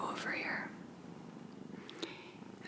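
Kitten purring softly and close during a gentle massage, a faint low rumble with quiet breathy whispering over it.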